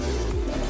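A Madras pigeon coos close by, a single low, throaty call with a brief falling inflection, heard clearly over light background noise.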